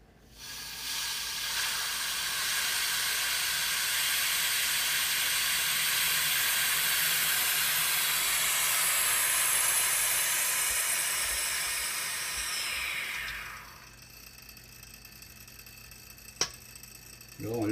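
A steady broadband hiss of a vacuum pump removing air from a chamber holding an alarm clock runs loud for about thirteen seconds, then cuts off abruptly, leaving a quieter hum.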